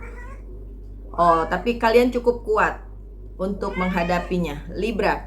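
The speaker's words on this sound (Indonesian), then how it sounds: "mohon maaf ya kalau bunyi kucing, itu kucing saya lagi main sama temennya" A domestic cat playing with another cat meows indoors, with short cries mixed into steady nearby talk.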